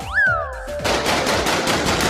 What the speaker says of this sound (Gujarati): હા હું તને હાથમાં ફટાકડો ફોડીને બતાડું